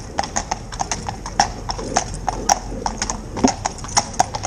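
A Gelderlander horse in carriage pair-work training clip-clops steadily on a hard surface, the crisp hoofbeats close and regular throughout.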